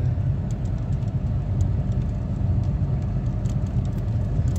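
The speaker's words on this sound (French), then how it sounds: "La petite TRD qui va à 20 km/h." A Toyota TRD car's engine runs as it creeps along at about 20 km/h, a steady low rumble that stays close and even throughout with no talking.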